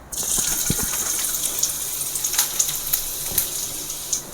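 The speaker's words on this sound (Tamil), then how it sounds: "எண்ணெய் சூடாகிடுச்சு நம்ம இப்போ இஞ்சி போட போகிறோம்" Ginger dropped into hot oil in a pan for radish pickle sizzles with a steady bright hiss, crackling pops scattered through it, moderately close and alone without talk.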